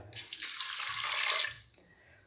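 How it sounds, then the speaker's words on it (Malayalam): Water poured into a pan of jackfruit seed curry with drumstick leaves, a steady splashing stream swelling and then tapering off after about a second and a half, close by, with no talk. "അപ്പോൾ അത് വേവാനുള്ള വെള്ളം ഒഴിക്കാം"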